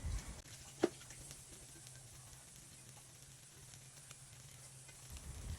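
Fried rice with chopped green onion sizzling in a hot pan, a soft steady crackling hiss with one sharp clink of a utensil near the start, fairly quiet and free of talk.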